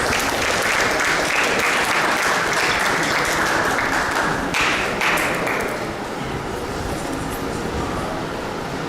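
A large delegates' congress audience breaks into dense, sustained applause that fills the hall with a steady roar, then eases slightly and carries on at a lower level.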